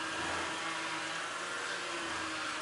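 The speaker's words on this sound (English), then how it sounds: "All that you can hear is air being bled." Steady broadband whoosh and hiss of air being bled from a BA Falcon power steering pump, continuous and fairly loud, with a low engine hum underneath and no voices.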